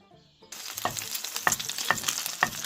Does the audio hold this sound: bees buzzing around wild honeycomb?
no